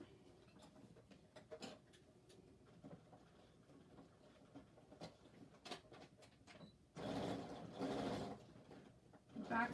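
A sewing machine back stitches over zipper tape on a criss cross shoulder bag, quiet intermittent ticking stitches that swell into a louder continuous whirring burst of stitching toward the end, close by.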